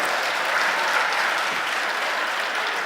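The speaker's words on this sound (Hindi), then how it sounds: "एक बार दोनों हाथ ऊपर और आगे से पीछे तक इनको तालियों में तब्दील कर दीजिए" Sustained audience applause at a Hindi poetry recital about the Ram temple in Ayodhya, a dense, steady wash of many hands clapping at full level throughout with no talk.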